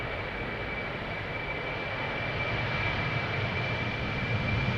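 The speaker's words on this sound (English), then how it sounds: "Got a Britty hopper over here, Eastern Airways, flying on behalf of KLM to Newcastle," An Eastern Airways Embraer 190 jet flying for KLM to Newcastle, heard at Amsterdam Schiphol Airport as a steady engine roar with a thin high whine, building slightly toward the end.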